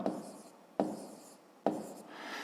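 A pen writing numbers by hand while working a fifth-grade math exercise, with three distinct strokes, each a sharp onset followed by a fading scratchy rub, close and clear, without talk.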